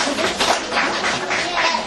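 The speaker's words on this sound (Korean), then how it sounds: "박수로 맞이해 주세요" Church audience claps to welcome a group of children at a Christmas program, a brief, fairly loud burst of many hands with a lively, uneven rhythm and no voices.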